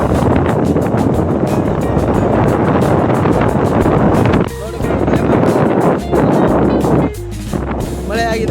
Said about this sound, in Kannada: ಸಿಕ್ಕಾಪಟ್ಟೆ ಗಾಳಿ ಇದೆ